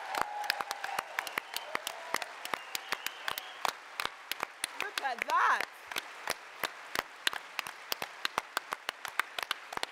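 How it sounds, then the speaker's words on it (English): A handful of people at a women's political conference clap in sharp, distinct claps that are close and fairly sparse, not a thick ovation, while a voice speaks briefly over them and a short cheer rises midway. "Give them a round of applause"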